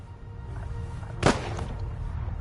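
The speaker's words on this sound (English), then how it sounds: "Oh yeah, the recorded gunshot." A single recorded gunshot rings out in The Raven Remastered video game, one sharp, loud crack that quickly decays back into a steady, low game ambience.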